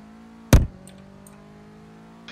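A car engine in the Roblox video game starts with one loud, sharp burst, then settles into a steady low idle hum that continues without talk.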